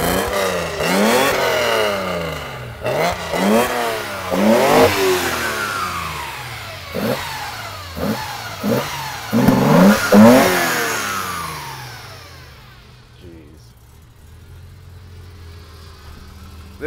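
A Datsun 240Z safari build rally car revs hard and close, its engine climbing and dropping through repeated bursts of acceleration before fading away into a distant idle-like hum.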